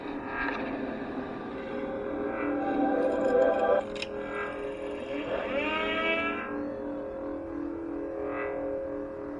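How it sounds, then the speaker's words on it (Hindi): OLA S1 Pro electric scooter in its vintage sound mode, a synthetic engine-like tone with pitch sweeps rising and falling like an old scooter revving, fairly loud and close, with effects-style echo and no talk. "अभी चलते हैं विंटेज पे, जो थोड़ा पुराना गाड़ी जैसा स्कूटर जैसा साउंड करता है।"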